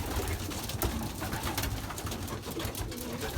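Belgian racing pigeons coo in a loft, soft layered throaty calls overlapping against steady background noise, several birds at close range.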